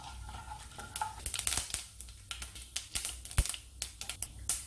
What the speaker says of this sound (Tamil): ஒரு கடாய் வச்சுட்டு கொஞ்சமாக நல்லெண்ணெய் சேர்த்துக்கலாம் கொஞ்சம் அதிகமாக உளுந்து சேர்த்துக்கலாம் கொஞ்சம் கடுகு